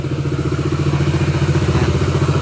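A motorcycle engine idling with a fault that gives a grinding, clattering noise, its rapid pulsing chug steady and close up with the muffler covered, and no talk.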